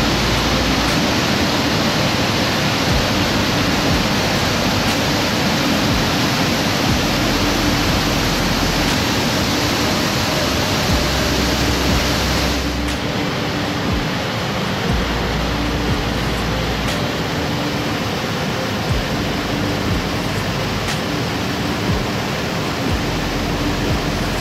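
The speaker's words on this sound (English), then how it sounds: "It's only a short walk to the waterfall." Epupa Falls waterfall roaring steadily, a dense broadband rush of falling water that stays loud and unbroken throughout, with no voices.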